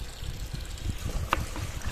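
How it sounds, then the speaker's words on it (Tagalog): Water splashes and trickles steadily into a pot of rice and corn for dog food porridge, a continuous close pouring sound with a brief clink. "Lagyan natin ng maraming tubig para maging lugaw."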